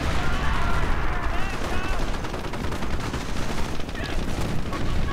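Dense, continuous battle noise from a World War II real-time strategy game: rapid gunfire and artillery booms overlapping near and far, with speech mixed into the din.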